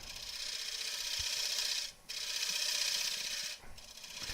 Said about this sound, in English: I'll put a chamfer on there very carefully